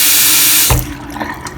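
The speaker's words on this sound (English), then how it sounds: "Put a little more water in there." Water gushes from a tap into a bathroom sink, loud and close, then cuts off abruptly. A few faint drips and trickles follow in the quiet afterward.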